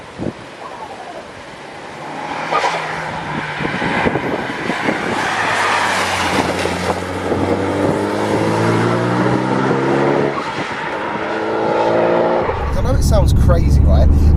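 A 21-year-old Mitsubishi Evo 6 engine revs up and pulls harder as the turbo boost comes in, a loud rising drone with climbing harmonics that swells toward the end.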